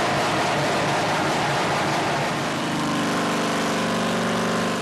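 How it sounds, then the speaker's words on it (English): Nitro-injected V-twin drag bike engine running nearby, a loud steady rumbling roar that holds throughout and takes on a smoother, more even drone in the second half. "And this is the sound of a nitro-injected drag bike."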